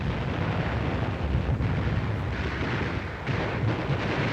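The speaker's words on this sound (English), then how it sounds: "When this Jap ammunition dump blew up, it shook the whole island." Massive ammunition dump explosion on a Pacific island in World War II, heard as a dense, continuous roar of blasts and rumbling detonations, loud and sustained throughout with no talk.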